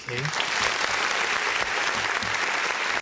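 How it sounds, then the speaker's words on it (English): Brief applause on a podcast, a short burst of clapping lasting about three seconds under some overlapping speech before cutting off abruptly. "So a round of applause to me"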